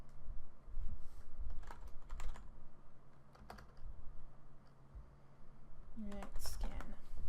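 Fingers tap at a computer keyboard while editing a text layer in Photoshop, scattered clusters of soft clicks over room noise, with a short louder burst near the end.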